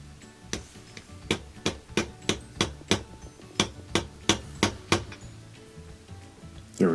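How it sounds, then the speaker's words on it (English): Small hammer tapping a Whirlpool/Kenmore washer motor coupler onto its shaft through a socket, about a dozen sharp, close metallic taps in an even rhythm, heard alone. "I'm going to use a small hammer, just 5 or 6 taps to get it to sit"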